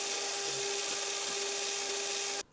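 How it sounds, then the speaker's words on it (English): An end mill in a small milling attachment cuts a spot face on a curved shaft, giving a faint steady whine with a constant tone that stops abruptly near the end. "I'm using an end mill to add a little spot face on the curve."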